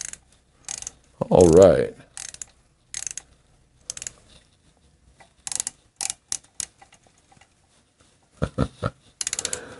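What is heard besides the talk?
ratchet wrench turning while installing Shovelhead lifter blocks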